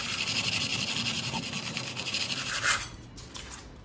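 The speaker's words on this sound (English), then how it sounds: "So to prepare this, what we do is use a sandpaper." Sandpaper is rubbed back and forth over a smooth, shiny tray surface to roughen it, giving a close, steady rasping scrub that stops near the end.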